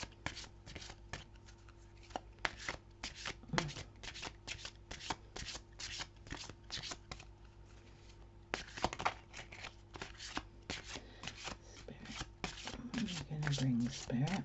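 Oracle cards being shuffled by hand close to the microphone, a rapid series of crisp riffling flicks repeating steadily throughout, with a soft voice speaking over parts of it.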